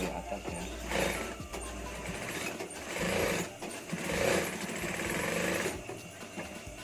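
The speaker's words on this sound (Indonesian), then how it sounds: "Langsung kita jahit ke atas ya." A sewing machine stitches a hidden-button placket on a Shanghai-collar knit shirt, running in a rapid mechanical whir that surges and eases in several bursts, heard close, with someone speaking over it.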